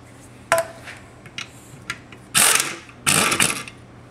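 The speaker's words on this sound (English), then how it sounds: "can pull the 4 bolts off and go ahead and separate the motor from the seal plate itself" A hand ratchet loosens the four bolts holding a Pentair Whisperflo pool pump motor to its seal plate, heard as a few sharp clicks followed by two longer bursts of rapid ratcheting, close and fairly loud, with no talk.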